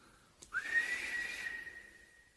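A single human whistle from a Hobbit story sounds alone: a clear tone that slides up sharply, then holds steady and fades over about two seconds in a quiet setting.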